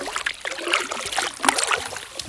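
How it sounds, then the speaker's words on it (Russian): Water drips and trickles from a boat paddle on a quiet river, with scattered small splashes and droplets close by in a steady, irregular patter. "Только капельки воды с весла. Кап-кап, кап-кап."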